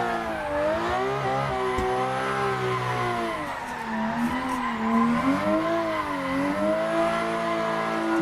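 A BDC V6 car drifts in Assetto Corsa, its engine revving and wavering in pitch as the tires squeal and skid through long slides, loud and close with no voices.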